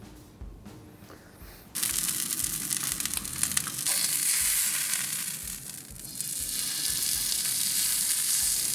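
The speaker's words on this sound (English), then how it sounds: "All right, without further ado, this goes on the barbecue" Seasoned steak hits a hot barbecue grill and bursts into a loud, close sizzle after a brief quiet moment, the hiss holding steady with crackling pops and small surges.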